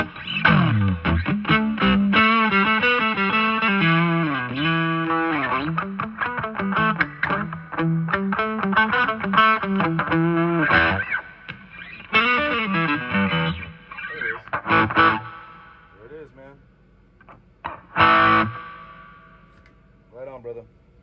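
Electric guitar played through a Fender Twin Reverb II amp with the reverb set on 3 rings out in loud sustained chords and melodic lines, tails washing on, then thinning into sparse notes and pauses near the end.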